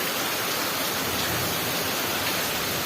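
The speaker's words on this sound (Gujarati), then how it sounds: "કેવો છે વરસાદ" Steady rain falling over a village in Gujarat, a dense continuous hiss with no distinct drops, moderately loud and unbroken for the whole stretch.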